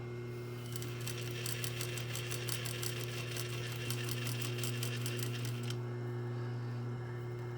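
A sewing machine stitching a continuous lap placket on fabric runs in a fast, even, close-up rattle for about five seconds and then stops, leaving a low steady hum with no talking.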